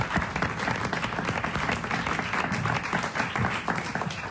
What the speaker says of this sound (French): on applaudit Monique